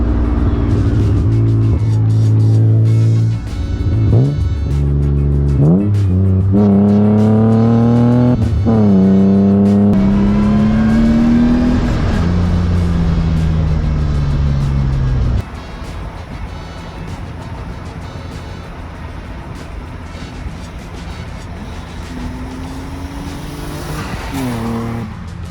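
A supercharged BMW M3 E36 engine revs hard through several rising gear pulls on a canyon road, loud and close with supercharger whine, then settles into a lower steady cruise.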